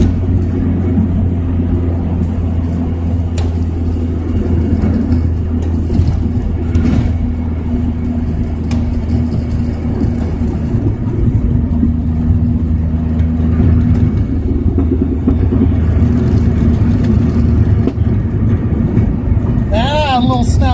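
A Mazda-engined drag car being tuned on low boost drones steadily for about twenty seconds, the engine note rising and falling slightly, with people talking over it.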